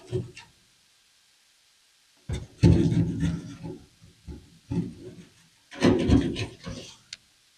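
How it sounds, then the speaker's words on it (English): A chisel stick scrapes old adhesive off the windshield header of a 1966-1977 Ford Bronco, a few separate rasping strokes close up, each lasting about a second, with quiet gaps between them and no talk. "We'll also take our adhesive remover, chisel stick, kind of get some of it off."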